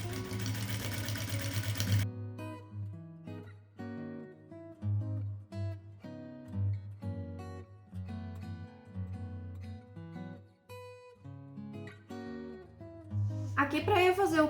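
A domestic sewing machine stitches a quilt on a long-stitch setting, running in steady bursts separated by short pauses, with someone talking over the whirring motor.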